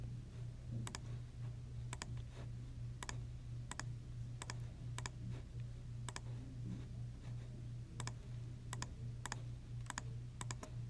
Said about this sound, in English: I'm going to type in that equation.